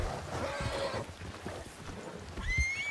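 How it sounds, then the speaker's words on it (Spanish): Horse neighing and whinnying with clip-clop hooves as it arrives in Red Dead Redemption, a mid-distance whinny early and a sharper rising whinny near the end over outdoor game ambience. "Ya, llegó un caballo."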